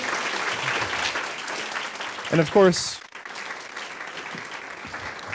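Audience applause for a panel of speakers at an environmental policy professional event, a steady broad wash of clapping filling the room with a brief voice near the start and a short burst of speech midway.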